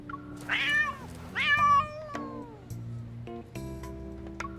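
Two clear, loud meows from a cat in the video game Love and Deepspace ring out over a soft layered game music bed, followed by brief chiming sound effects.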